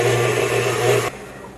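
An electric mixer whirs steadily through cookie dough, a loud continuous motor drone that cuts off abruptly near the end, leaving a quieter room tone.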